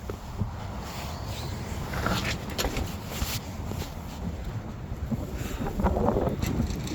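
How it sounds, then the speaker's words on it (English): Winter wind blows around a budget truck camper, a steady rushing roar with gusty buffeting against the microphone that swells and eases without letting up. "It's a bit windy out today."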